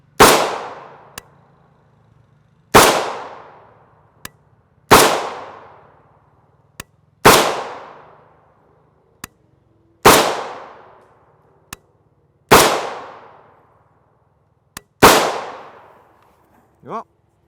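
A modernized AK rifle fires US-made steel-case 7.62x39mm ammunition outdoors: seven loud, sharp single shots spaced about two and a half seconds apart, each with a ringing echo tail and faint metallic clicks between them.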